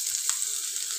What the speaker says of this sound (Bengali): এবার কড়ায় সর্ষের তেল গরম করে নিয়ে তাতে দিতে হবে পেঁয়াজ কুচি